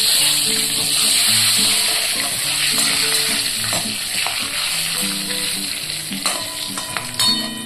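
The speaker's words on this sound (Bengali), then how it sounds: "দুটো কাঁচা লঙ্কা দিয়ে দিলাম।" Green chilies dropped into hot oil tempered with whole cumin seeds for a cauliflower dish, crackling in a loud steady sizzle with scattered pops, ending in a few sharper clatters.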